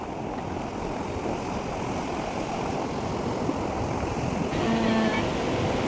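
Ocean waves wash onto a beach at Gokarna as a steady, close roar of surf and wind that swells a little louder near the end, with no voices.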